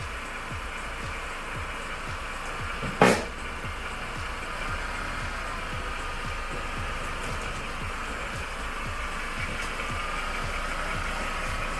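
A Mercedes W204 C-Class engine idles just after a control arm replacement, with a steady, quiet, even running rhythm and one short sharp click partway through.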